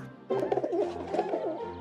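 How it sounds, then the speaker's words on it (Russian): A pigeon coos in a soft, low, rolling call lasting under two seconds. The call is close and clear, with a little background tone beneath it. "А, це ж голубь."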